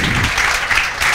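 Students in an online JEE mathematics class applaud in a short burst of clapping, a close, dense patter lasting about a second.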